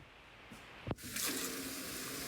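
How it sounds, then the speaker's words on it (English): Tap water runs into a canning pot: a brief clunk as the faucet opens, then a steady, close, full rush of water filling the metal canner, with no talk. "So I'm getting my canner filled with water."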